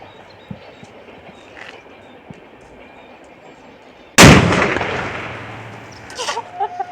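A firecracker bursts in a village outdoors with a single sudden loud bang, its rumble trailing off over a couple of seconds against faint background noise, followed by a few softer crackles.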